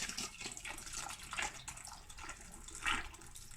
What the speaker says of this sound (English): I'm gonna just drain the liquid.